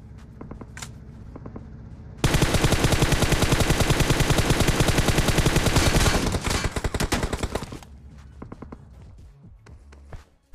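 Sustained automatic gunfire in a PUBG-style mobile battle royale shooter: a dense, loud burst of rapid shots lasting several seconds, thinning into scattered single shots, then quiet with a few faint sounds.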